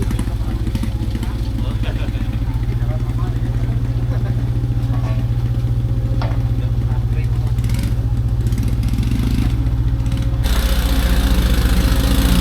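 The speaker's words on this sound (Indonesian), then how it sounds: "untuk mengangkut material batu untuk memadatkan jalan digunakan motor grandong seperti itu teman-teman" A modified grandong motorbike hauling stone for road hardening in a Sukabumi village produces a continuous, loud, rough engine chug that holds steady throughout and gets harsher near the end.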